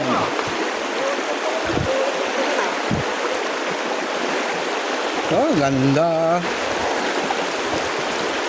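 Continuous rushing of a flowing river in General Nakar, Quezon Province, fills the scene, with a brief exclamation from a voice partway through.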